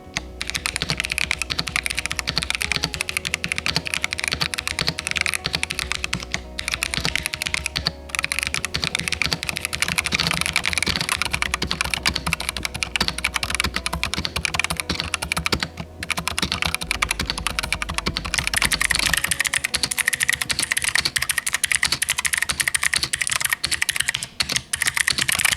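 Steady, continuous typing on a Razer BlackWidow V4 75% mechanical keyboard fitted with orange tactile switches, giving a dense, close run of muted keystrokes with no talk.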